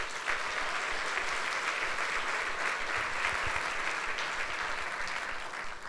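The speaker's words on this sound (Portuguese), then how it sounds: "Quem recebe e crê, dá um aplauso a Jesus" A church congregation at a Sunday service claps together in a steady, moderately distant burst of applause that holds even for several seconds.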